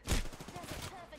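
Video game gunfire crackles in a short burst of rapid shots, moderately loud, with a player's voice faintly under it.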